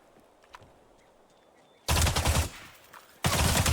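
Loud automatic gunfire bursts close by in the tactical shooter Arena Breakout, two sustained rattling volleys after a quiet stretch with faint movement sounds.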